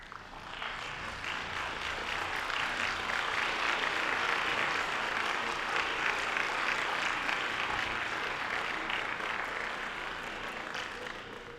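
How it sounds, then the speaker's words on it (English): A standing graduating class at a commencement ceremony applauds their loved ones with sustained, even clapping, heard at a distance as a steady hiss of many hands throughout. "Class of 2023, I invite you to stand and express your appreciation to your loved ones with a round of applause"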